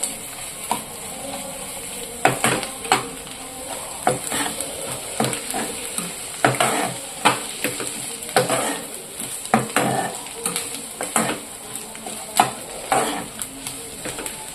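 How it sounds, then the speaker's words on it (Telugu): Ginger garlic paste frying in a pan and being stirred, with repeated sharp scraping strokes over a steady sizzle, close and fairly loud, no voices. "కొంచెం ఇందులో అల్లం వెల్లుల్లి పేస్ట్ కూడా వేసుకుందాము"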